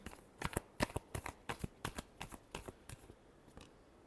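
Tarot cards shuffled in a run of about a dozen crisp, evenly spaced riffling snaps, close and fairly quiet, with no voice over them.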